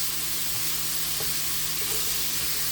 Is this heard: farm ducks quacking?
no